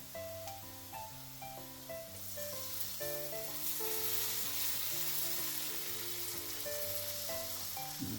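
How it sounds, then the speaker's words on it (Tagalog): Chicken feet sizzling in a frying pan as Sprite is poured in, a steady frying hiss running beneath louder background music. "lagyan na sana natin ng itong ating Sprite"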